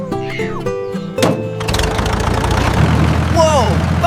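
A cartoon tractor's engine starts with a thunk and settles into a steady mid-pitched idle rumble, with animated character voices and squeaky sound effects over it.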